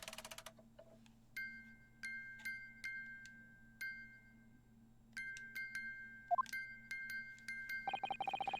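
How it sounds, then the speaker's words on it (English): A music box chimes in the Great Ace Attorney video game, a quiet sequence of bright, bell-like plinks in an irregular tune, with a brief rising tone partway through. "the sound emanating from this music box is not supposed to be music"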